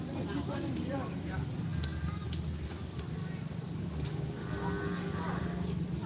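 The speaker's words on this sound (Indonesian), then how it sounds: "dan banyak sapi yang kecil-kecil" Cattle at a kerapan sapi bull race practice on a muddy field lowing amid a dense, loud outdoor crowd, with steady low rumble, scattered shouts and people talking throughout.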